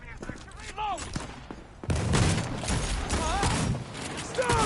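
Gunfire in the video game Cyberpunk 2077, with dense bursts of shots and thuds running through most of the clip, loud and close, mixed with voices and game sounds.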